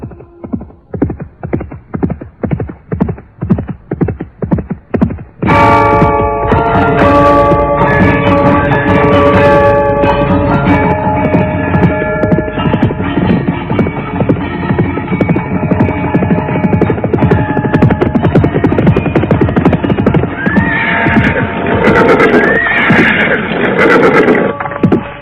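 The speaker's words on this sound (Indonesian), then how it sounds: "tiba-tiba mereka dikejutkan oleh suara derap seekor kuda yang datang dengan cepatnya" Hooves of a single horse galloping in rapid, evenly spaced beats that approach fast and loud, then give way to a dense, sustained ringing wash of bell-like tones.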